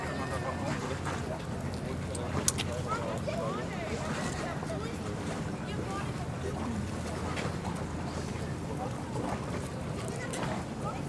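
A tour boat pulls away in Hamburg harbour on a foggy day, its engine giving a low steady rumble with water and wind noise throughout, while people talk nearby.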